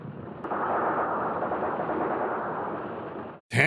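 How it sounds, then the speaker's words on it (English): A grenade blast in the war film The Bridge on the River Kwai, heard as a loud, sustained roaring rumble that runs for about three seconds, then cuts off and gives way to a new sharp burst. "Are you chucking a grenade down there?"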